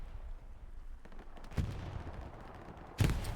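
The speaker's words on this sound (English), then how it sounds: "Grenade out." A grenade explosion and gunfire in Hell Let Loose during an ECL tournament match: two separate muffled, fairly distant blasts over a low battlefield rumble, each with a short crackling tail.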